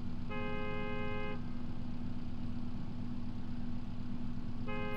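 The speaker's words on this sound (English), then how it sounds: "Who the hell is honking?" Car horn honking in the driving game BeamNG.drive, a steady tonal blast lasting about a second near the start and returning at the end, over a constant low engine drone with no talking.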